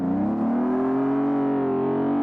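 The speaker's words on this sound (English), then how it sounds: "Fantastic exhaust though, just fantastic." A racing video game car's exhaust drones steadily under acceleration, a loud rising engine note with strong harmonics that climbs gradually over about two seconds, with no talking.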